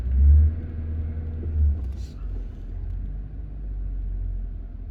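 A 2003 Ford Crown Victoria P71 accelerates on the highway, with a low, droning engine rumble and steady road noise heard from inside the cabin and a couple of heavier surges in the first seconds.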